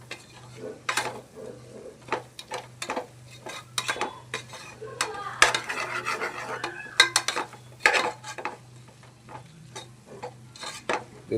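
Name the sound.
stirring food in a pan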